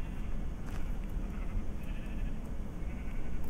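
A sheep bleats in a Minecraft game, its calls repeating in short bursts over a steady low background with no talking.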